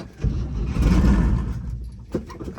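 A long-dormant Chevy C10 engine cranks briefly, then catches and fires up with a rough surge of revs before settling, close and fairly loud.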